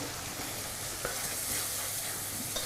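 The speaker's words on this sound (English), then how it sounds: "talk about scraping the colour off the bottom of your pot" Caramelised onions sizzle in a hot pot while a utensil scrapes and stirs the browned bits off the bottom, a steady close frying hiss with small scraping clicks.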